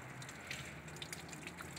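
Hose water runs steadily through a car radiator during a flush, a continuous close rushing wash that holds an even level with no break for under two seconds.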